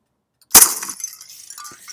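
Glass shattering effect triggered in Blender Game Engine when a bullet hits a pane: a single sharp loud break followed by a tinkling scatter of shards fading over about a second, heard alone.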